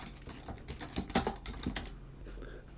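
A new file name typed on a computer keyboard, a quick burst of light clicking keystrokes close up, tapering off into quiet near the end.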